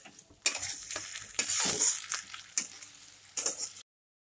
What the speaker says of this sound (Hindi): इसी में डालेंगे अदरक लहसुन का पेस्ट। इसे अच्छी तरह हम थोड़ा डार्क ब्राउन होने तक फ्राई कर लेते हैं।